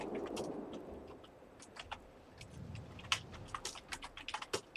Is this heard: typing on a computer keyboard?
yes